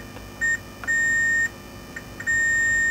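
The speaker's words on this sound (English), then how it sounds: "pin number 8 is beeping" A continuity tester probing a pin on a Dell Inspiron 15 3542 laptop motherboard gives several short-to-long steady electronic beeps at a single pitch, starting and stopping as contact is made, over faint background hum.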